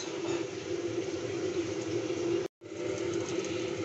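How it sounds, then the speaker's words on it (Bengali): A mixer jar of cleaned mint leaves being blended, the motor whirring loud and steady with a brief cut-out partway through before it starts again. "আমি মিক্সারে করে ব্লেন্ড করে নেব।"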